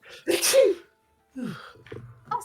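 One sharp, loud human sneeze sounds up close, followed by a brief silence and then people speaking.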